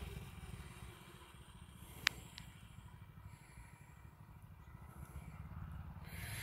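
A TrailMaster Storm 200 mini bike, nearly brand new, engine running as it rides off, a faint steady putter with a small clatter partway through, heard from a distance.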